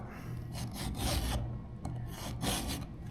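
A round file rasps along the chain of a Stihl MS 462 chainsaw, riding on a roller guide, in a few rhythmic back-and-forth strokes, close and moderately loud.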